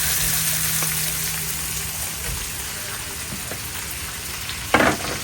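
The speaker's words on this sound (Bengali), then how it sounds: "আমি একটু ফ্রাই করে নিতেছি পেঁয়াজের সাথে" Shrimp frying with onions in a pan gives a steady, loud sizzle that fills the whole stretch, with a brief louder burst of hiss near the end.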